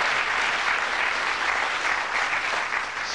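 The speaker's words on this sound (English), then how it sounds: "We'd like you to give a nice warm round of applause to Jock as he throws for charity tonight." Warm applause from a studio audience on the darts game show Bullseye as darts champion Jocky Wilson throws for charity, a dense, continuous clatter of clapping that stays loud and even throughout.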